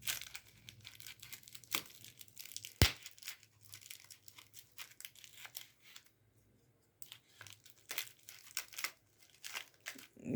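Kapiva honey packaging is cut open, with close crinkling, tearing and rustling in irregular bursts, one sharp snap or click, and a brief quiet pause midway.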